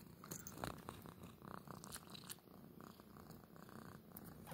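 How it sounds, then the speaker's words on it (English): A cat purrs softly and close by, a low rumbling rhythm of in-and-out breaths with no one speaking. "Purring sweet face."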